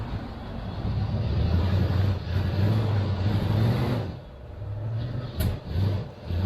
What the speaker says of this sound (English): Heavy truck.